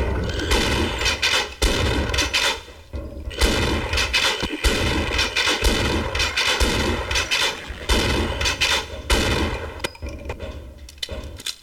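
Repeated gunfire from a Half-Life video game, sharp shots in quick pairs and bursts over a dense, loud game soundscape, continuing through the whole stretch with no speech.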